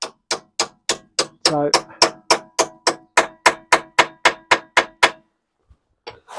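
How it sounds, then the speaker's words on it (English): A hammer taps a socket onto a rear brake bolt of a Volvo V70 in steady, evenly spaced metallic strikes, about eighteen of them, loud and close. One short word is spoken among the blows. "it's always best to tap the socket on instead of having the socket on the ratchet and tapping the ratchet with the socket"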